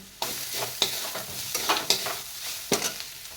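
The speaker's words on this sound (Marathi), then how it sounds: "लसूण मिक्सरला बारीक वाटून घेतलं आहे ते घालणार आहे आता ही चांगलं भाजून घ्यायचं" Ground garlic masala roasts in a pan, heard as a bed of sizzling under repeated close scraping stirs, about five distinct strokes in quick, irregular rhythm, with no talking.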